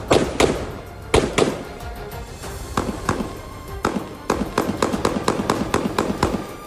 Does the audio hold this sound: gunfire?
yes